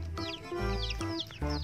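Chickens clucking and calling nearby in a short burst of repeated, overlapping squawks and clucks, loud and close.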